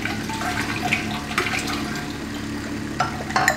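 Water from a hose pours steadily into a glass, a continuous close splashing and gurgling with a few brighter splashes near the end, and no one talking.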